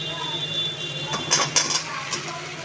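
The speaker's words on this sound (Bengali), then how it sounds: "চলো এবার আমি এঁচোড়গুলো এতে দিয়ে দিই" Young jackfruit pieces go into a cooking pan, giving a cluster of clinks and metallic knocks against the pan over a steady kitchen hum, fairly close and moderately loud.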